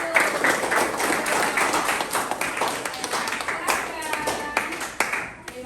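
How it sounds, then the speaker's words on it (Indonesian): A classroom group of students applauds together, a dense run of hand claps that carries on for several seconds and thins out toward the end, with some voices mixed in. "tepuk tangannya untuk kelompok 1"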